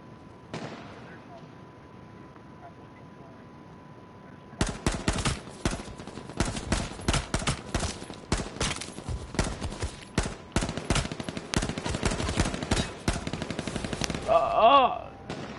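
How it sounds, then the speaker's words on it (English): Rapid bursts of gunfire in the video game H1Z1 crackle continuously for about ten seconds after a quiet stretch, loud and dense, with a few sharper shots near the end. "Can't tell where they're shooting from."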